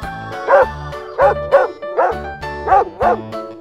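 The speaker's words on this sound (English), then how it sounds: "Dog." A dog barks repeatedly in close, loud, evenly spaced barks, about seven in a row, each a sharp harmonic yelp with a brief pause between.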